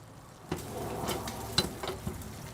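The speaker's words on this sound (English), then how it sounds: "A little bit of olive oil, Right. and then we fry off our kidney." Kidney frying in olive oil in a pan over an open fire, a soft steady sizzle with a few clanks and stirring knocks close by.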